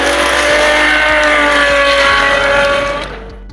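Ferrari F12 TRS sports car engine holding a loud, steady high-revving roar with rising whining harmonics, then easing off and fading in the last half second.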